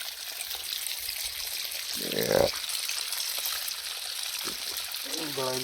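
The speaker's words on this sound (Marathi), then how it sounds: "हे पाणी चालू आहे इथं" Water runs with a steady rushing hiss through an irrigation channel in a sugarcane field, continuous and fairly close throughout, with a brief splashy gurgle midway.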